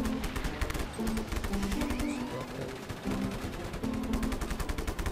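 Rapid gunfire rattles in Just Cause 3, with dense repeated shots and occasional tonal game effects as the grappling hook is used, loud and continuous throughout.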